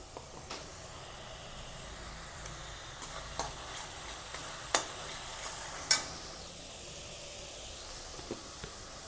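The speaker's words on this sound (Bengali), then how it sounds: "এটা দিয়ে একটু ভালো করে কষিয়ে নেব" Egg roast masala with tomato paste sizzling as it is stir-fried in a pan, a low steady hiss broken by a few sharp spatula scrapes and clicks.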